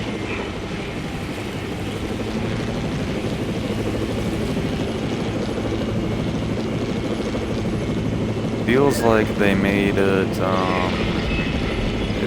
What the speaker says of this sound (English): feels like they made the helicopter move a little faster when you're in dark mode